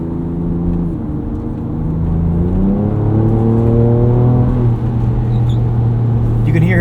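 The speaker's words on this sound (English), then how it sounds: "You can hear here, just getting up to 60 miles an hour, not a ton of road noise with these G003s" A 2024 Ford Ranger Raptor on tall, skinny 34-inch Yokohama Geolandar G003 tires speeds up toward 60 mph, with steady tire and road hum under an engine tone that climbs in pitch and settles as the truck accelerates.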